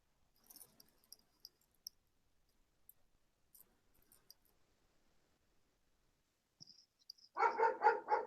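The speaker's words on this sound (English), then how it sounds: "There's a dog barking out there." Dog barking outdoors beyond a shut window, a short burst of several barks near the end after mostly quiet room tone with faint scattered clicks.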